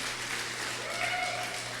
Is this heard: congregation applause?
yes